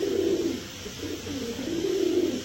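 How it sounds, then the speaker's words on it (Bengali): A pair of black Muslim-dom pigeons coos steadily in a low, throaty, rolling rhythm, close and continuous without pause. "অবস্থাটা দেখছেন কি পরিমাণ ডাকে কবুতর গুলা মাশাআল্লাহ।"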